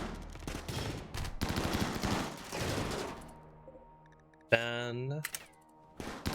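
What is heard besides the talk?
gunfire in RimWorld video game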